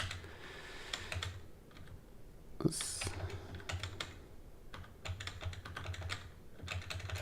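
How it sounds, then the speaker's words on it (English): Keystrokes on a computer keyboard, a steady run of light clicking taps with short pauses and one louder clack, fairly close over a low background hum, no talking. "I'm going to type out all of the three-dimensional inputs."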